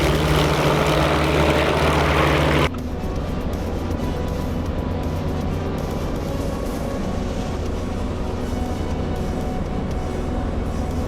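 Propeller airplane in cruise flight, heard from inside the cabin as a loud, steady engine drone that suddenly drops to a lower, smoother pitch as the prop is adjusted.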